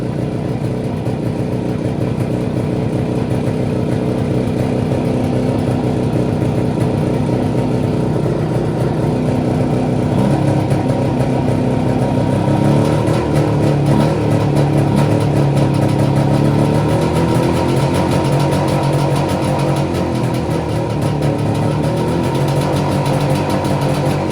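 An Izh Jupiter motorcycle engine idles close by and is then revved, the steady loud engine note rising and wavering in pitch midway through before settling, with no talking.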